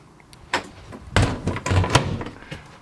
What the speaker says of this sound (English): And then pocket door here to close off the bathroom.